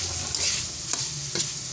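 Pork for adobo sautés in a pan with a bright continuous sizzle, punctuated by a few sharp scrapes and knocks of a stirring utensil, close up.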